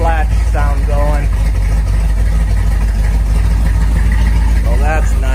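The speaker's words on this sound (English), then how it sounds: "It's gone down to the slow idle, and it's got that nice flat," A 1973 Corvette engine settled into a slow idle gives a steady, flat low rumble throughout, with someone talking over it.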